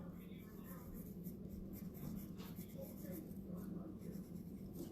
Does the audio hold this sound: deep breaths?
no